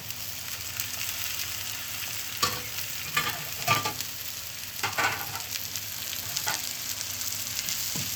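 A spoon stirs food frying in a pan during preparation of Alexandrian-style fava beans. Steady close sizzling runs throughout, broken by several short scraping and clattering bursts as the contents are turned.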